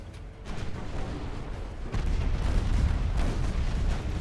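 Warship guns firing in the naval battle game Ultimate Admiral Dreadnoughts, a steady stream of heavy booming salvos that swells louder and denser partway through, with distant rumbling throughout.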